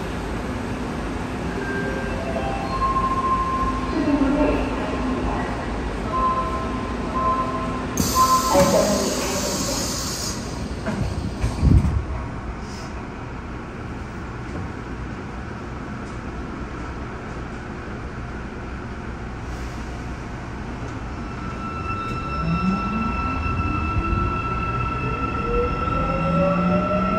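Daegu Metro Line 2 subway train running between Munyang and Yeungnam University, a steady loud rumble of wheels and motors with occasional squeals and rising whine, heard from inside the car without talk.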